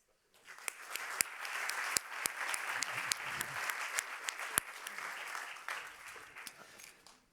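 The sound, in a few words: audience applause for conference speakers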